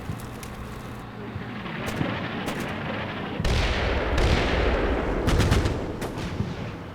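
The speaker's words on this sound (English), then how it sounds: "We've got infantry firing over to the north." Infantry gunfire in the Combat Mission Black Sea video game: continuous crackling rifle and machine-gun bursts with heavier booming shots swelling midway, dense and sustained, no talk.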